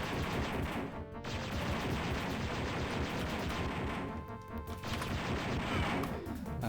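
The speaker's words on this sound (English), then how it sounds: "you can see the little explosion they give off when" Destroyed enemies in the Dark Forces game's Gromas Mines level pop in small explosions. Crashing, gunfire-like bursts fill the clip in a dense, continuous barrage, broken by two brief dropouts.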